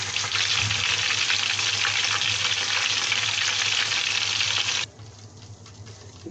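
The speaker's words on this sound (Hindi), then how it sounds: "और इसको सब तरफ से गोल्डन ब्राउन होने तक इसको तल लेंगे इसको फ्राई कर लेंगे" Nargisi kofte deep frying in hot oil until golden brown, a loud, steady bubbling sizzle that cuts off abruptly near the end, leaving a quiet room.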